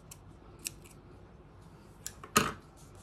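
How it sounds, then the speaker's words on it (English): Small scissors snip loose fabric threads on a hand-woven embroidery piece: two light clicks, then one louder, crisp snip near the end, close up in a quiet room with no talking. "I may need just to snip this one a little bit as well."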